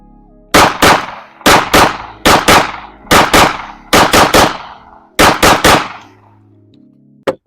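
Seven sharp gunshots from a SIG P320 pistol, mostly in evenly spaced pairs over several seconds, each loud and close with a short ringing decay, then a faint metallic clink at the end.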